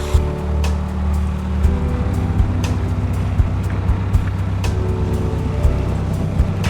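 Close and steady, a narrowboat's engine chugs low and continuous while cruising a canal, with occasional light knocks over the even rumble.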